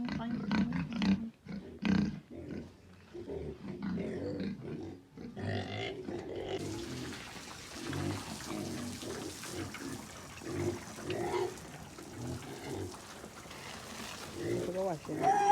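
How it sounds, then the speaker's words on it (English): Frightened pigs on a farm in the Jamaican countryside grunt and squeal in uneven bursts, mixed with rumbling background noise and people talking nearby. "Oh, they're so frightened. Pig life. Oink, oink, oink, oink, oink."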